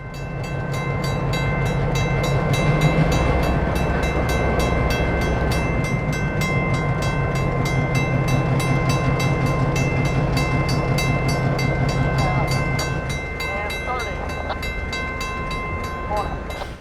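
A 70-year-old diesel locomotive on a short line railroad switches freight cars, including empty high-cube boxcars. Its engine rumbles loudly and steadily while wheels and couplers clank and rattle, and the engine eases off toward the end.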